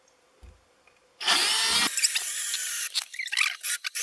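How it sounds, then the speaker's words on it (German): A cordless power drill whirs loudly for a couple of seconds, then winds down into stuttering bursts as it bores through material. "Und bohrt da mal ein Loch durch."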